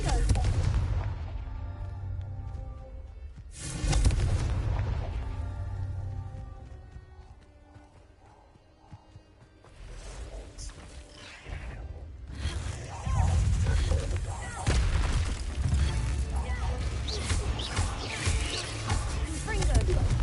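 Confringo blasting spells exploding in Hogwarts Legacy: several loud, booming bursts separated by quieter gaps, with heavy low rumble and a softer crackle between them. A voice speaks over part of it.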